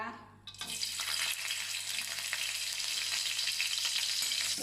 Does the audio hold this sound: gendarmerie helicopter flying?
no